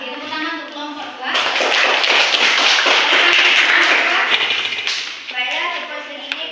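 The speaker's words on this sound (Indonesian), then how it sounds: "tepuk tangan untuk kelompok 2" Classroom students applauding a group presentation, a loud burst of many hands clapping that swells and holds for about four seconds before fading back to voices, with people talking before and after.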